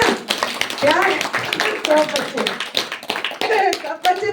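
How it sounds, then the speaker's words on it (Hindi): Audience clapping at a Navratri religious discourse with children present, uneven bursts of hand claps mixed with chatter and voices, close and fairly loud. "वाह, इसके लिए तो तालियां होना चाहिए ना।"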